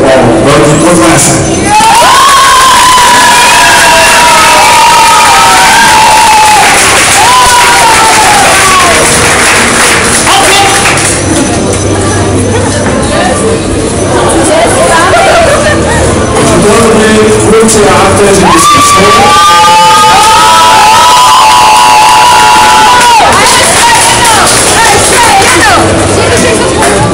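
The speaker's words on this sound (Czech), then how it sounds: "A já bych rád teda vás poprosil ještě jednou o velký potlesk." Crowd at a film premiere in a city park shopping centre, loud applause and cheering mixed with babble and a voice over a loudspeaker that rises and falls throughout, busy and close.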